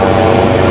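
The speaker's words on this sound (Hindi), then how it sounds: "हेलीकॉप्टर भी इधर आ गया" An army helicopter flies overhead near a Saudi beach, its engine and rotor making a loud, steady, close roar for the whole short moment.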